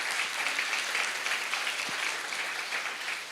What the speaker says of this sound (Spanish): Den otro aplauso fuerte al Señor.